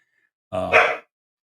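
One dog lets out a single sharp bark, loud and close, in an otherwise quiet room.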